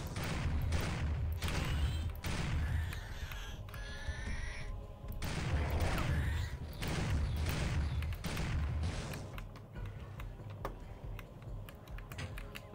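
Shotgun blasts in the game Turok 2 sound as repeated sharp, punchy shots at an irregular pace, mixed with clicking and other game effects under steady background noise.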